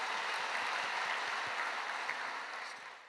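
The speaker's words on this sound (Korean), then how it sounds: "네, 은혜의 말씀 전해주신 우리 목사님께 감사의 박수 드리겠습니다." A church congregation at an early morning worship service applauds with steady, dense clapping that fades toward the end.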